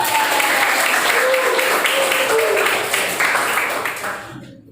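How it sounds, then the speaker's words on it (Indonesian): Students in a classroom clap for a classmate, a lively burst of close applause with faint voices mixed in, holding steady before tapering off and cutting to silence. "Tepuk tangan buat Aldi."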